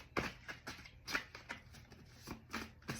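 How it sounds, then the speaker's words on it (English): Tarot cards being shuffled by hand, a series of quick crisp riffles and soft slaps in an uneven rhythm, close and fairly quiet with no voice over them. "Unless while I'm shuffling, something falls out."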